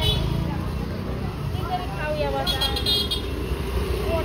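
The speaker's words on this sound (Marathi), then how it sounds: "चालली आहे बघा गाड्या चालल्या" Traffic crawls through a busy Tuesday market in Kankavli, with car and bus horns tooting over a constant roadway rumble and background crowd noise.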